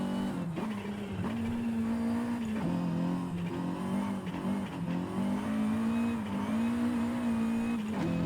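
Forza Horizon 5 car engine with tyres on the limit of grip: a steady droning engine note that rises and falls as the throttle is feathered, with faint tyre scrub underneath and no talking.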